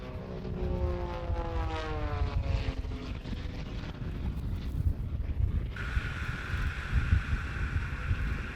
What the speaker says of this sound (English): letting the aircraft roll just with the torque of the engine